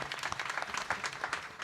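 Applause from a kirtan audience, a dense run of many hands clapping steadily and fairly close, with a faint voice mixed in.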